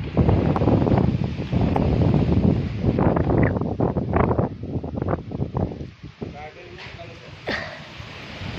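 Strong wind buffets the microphone in loud, continuous gusts, with rustling throughout and the roar easing slightly toward the end.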